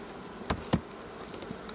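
Honey bees hum around a beehive fitted with two honey supers, a steady close drone with a couple of brief louder knocks from handling the hive.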